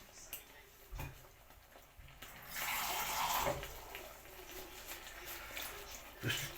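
A little water splashes into a hot pan of stuffed peppers cooking with chicken and rice: a short hissing pour lasting about a second or two, then quieter kitchen sounds around a few faint knocks.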